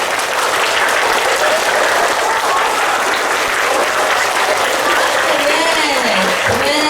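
Loud sustained applause from schoolchildren at a sports-day assembly, clapping for themselves in a dense steady roar, with an adult voice rising over it toward the end.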